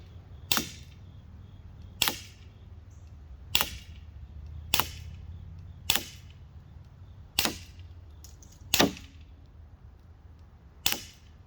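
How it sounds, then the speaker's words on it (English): An Umarex SA10 air pistol fires at targets such as a coconut and a squash, eight sharp snapping shots spaced roughly a second or more apart, close and crisp over a quiet background hum. "Firing."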